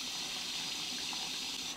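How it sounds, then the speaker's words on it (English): A steady, even stream of tap water from a kitchen sink runs into a well of flour for paratha dough, a continuous close hiss with no break. "I'm just going to put the water straight into the well like that."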